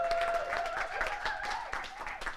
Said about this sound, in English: I just want to have another round of applause for everybody who's played this evening.